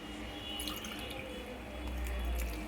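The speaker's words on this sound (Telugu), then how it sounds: "కొద్దిగా వాటర్ వేసుకుందామండి," Water poured into a pot of chopped vegetables and lentils for sambar, a continuous low splashing and trickling pour at close range with no voices.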